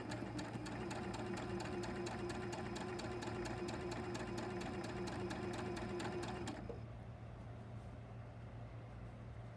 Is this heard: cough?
no